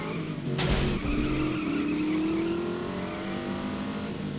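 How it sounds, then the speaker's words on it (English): Racing car engine revs hard during a chase in the video game The Saboteur, with a rising, sustained engine whine, tire squeal and a brief skid near the start, loud and close. "We're in a racing car for crying out loud."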